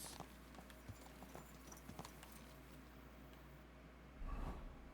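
Horse hooves clip-clopping in the medieval video game Kingdom Come Deliverance 2, faint scattered footfalls over a low rumble, with a louder burst of movement near the end.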